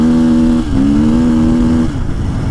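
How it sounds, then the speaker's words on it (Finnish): An enduro motorcycle revs hard on a gravel road with its rear wheel spinning, holding a loud, steady high-rpm engine drone that dips briefly and then climbs again, close and without talk. "On se hienoa, kun perä sutii ja kierrokset on korkealla"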